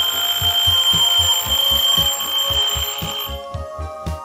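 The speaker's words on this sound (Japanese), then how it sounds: "結構大きいベル音ですね。" A Seiko radio-controlled alarm clock rings its mechanical bell loudly and close up, a rapid continuous metallic clatter that runs for about four seconds before easing off, with no talking.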